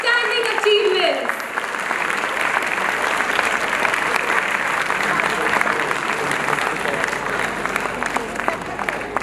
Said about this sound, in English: Let's give her a big round of applause for outstanding achievements.